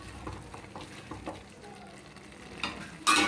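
A spoon stirs a sprouts biryani mixture in a pot with soft scraping strokes over a faint simmer, ending in a brief louder clatter.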